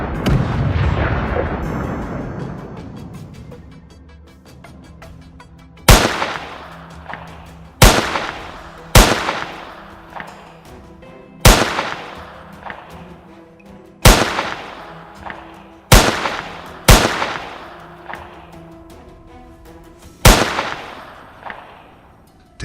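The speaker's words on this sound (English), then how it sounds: "Waited for the perfect moment and dropped it with rapid gunfire" Sharp, loud gunshots crack out one after another at irregular intervals, about nine in all, each ringing briefly before the next, during a night wild boar hunt in Texas.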